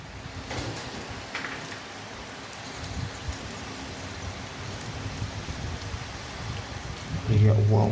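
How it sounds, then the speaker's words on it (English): Steady rain falls outdoors on a stormy day in Barbados, a continuous broadband hiss with occasional heavier drips, while a voice talks over it and a louder rumble swells at the end. "As you can see, outside is very rainy"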